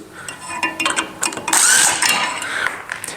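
Screws being backed out of a guitar neck, giving a series of close metallic ratcheting clicks and squeaks in irregular bursts with a brief louder scrape.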